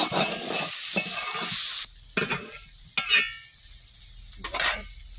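Boiled vegetables hit hot oil in a pan with a loud, bright sizzle that cuts off abruptly, followed by a few quieter scraping stirs and short spatters against a faint background.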